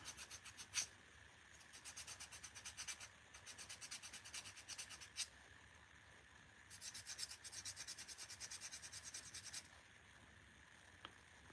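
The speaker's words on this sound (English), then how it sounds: "I just take a little sanding block" Quick back-and-forth rasping of a small sanding block on a dip-powder nail, in rhythmic bursts with short pauses, close and quiet.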